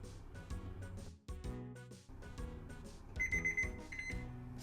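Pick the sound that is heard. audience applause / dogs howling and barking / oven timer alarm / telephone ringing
oven timer alarm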